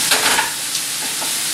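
Potatoes, onions and garlic frying together in a pan make a loud, close, continuous sizzle with a few brief stirring scrapes.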